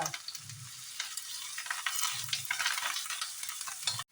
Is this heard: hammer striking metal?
no